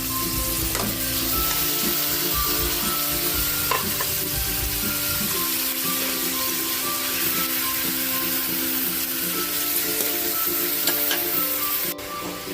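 Squid fries with celery in a hot pan for adobong pusit, a loud, continuous sizzle with occasional stirring scrapes running steadily throughout without talk.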